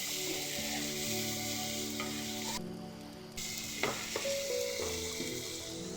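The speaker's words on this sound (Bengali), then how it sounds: "তারপর লবণ, সামান্য একটু হলুদ, 3টা কাঁচামরিচ দিয়ে ভালো করে মিশিয়ে নিই।" Taki fish being stirred in hot oil with onions, salt, turmeric and three green chilies makes a continuous loud sizzle, broken by clattering spoon strokes and scrapes against the pan.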